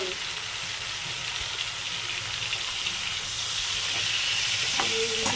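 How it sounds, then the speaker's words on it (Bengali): Prawns fry in a pan of oil with a steady, close, dense sizzle that holds evenly throughout, with a brief faint tone near the end. "চিংড়ি মাছগুলো ভাজা হয়ে গেছে আর তুলে নেব"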